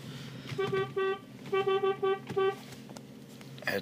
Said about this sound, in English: You got to honk in the code for the door to open.